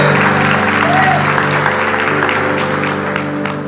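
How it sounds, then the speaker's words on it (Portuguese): Church congregation applauding steadily over sustained background organ or keyboard tones, a dense continuous wash of clapping that holds at an even level for several seconds. "Quem crê, dá um aplauso para Jesus aí, igreja."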